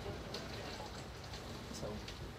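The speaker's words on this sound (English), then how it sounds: "That rain is like coming down, y'all." Heavy rain in a video game hisses in a steady, dense patter with scattered brighter drops, faint and continuous, with a voice talking underneath.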